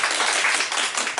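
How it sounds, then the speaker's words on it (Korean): Audience at a civic debate forum in Uijeongbu giving a short, even burst of applause, many hands clapping together at close range with no talking over it. "박수 좀 크게 쳐주세요."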